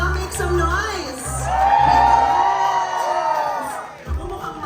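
A crowd at a Watsons vaccine education event in Manila cheers, shouts and whoops loudly for several seconds, with children's voices mixed in, then briefly dips and surges again.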